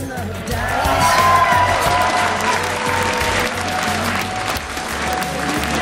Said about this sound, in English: please give a round of applause to David Ting for presenting the award.